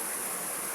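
Steady, dense rushing of a river flowing at Bluerock, continuous and broadband with no breaks, close and fairly loud throughout the short stretch.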